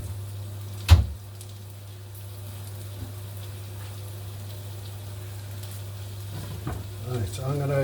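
Chopped onion softening and browning in a pan with leftover steak bits, giving a steady low sizzle with a sharp clatter near the start and a few stirring scrapes toward the end.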